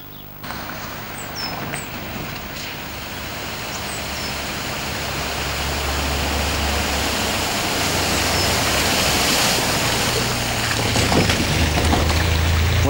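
A car driving through a ford, a continuous heavy rush and churn of water building gradually under a low engine rumble, close and loud throughout.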